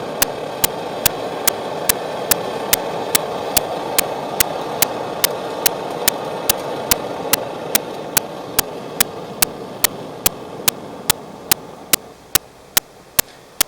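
An MSR camping stove burns with a steady, broad roar that softens toward the end, accompanied by sharp, evenly spaced ticks.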